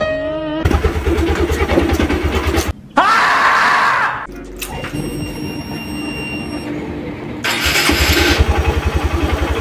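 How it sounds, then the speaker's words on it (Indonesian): Yamaha Verza 150 motorcycle engine cranking on a repaired starter dynamo, then catching and running at a steady idle, loud and close, with brief bursts of higher revving and no speech. "sudah bisa di starter"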